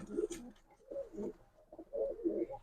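Pigeons cooing nearby, several soft low rolling coos repeated in short phrases, fairly faint, with a brief higher chirp early on and no talk.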